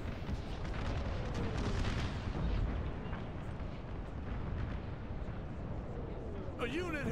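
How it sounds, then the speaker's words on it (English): Cannon fire from artillery in an American Civil War Gettysburg mod of Napoleon Total War, a dense continuous rumble of distant booms and battle noise at steady moderate loudness, with a voice speaking over it. "My artillery is still firing here."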